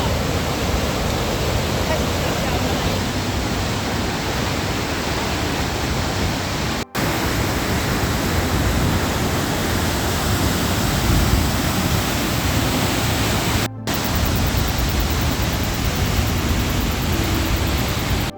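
A loud, steady roar of a rushing river in New Zealand, continuous and unbroken throughout.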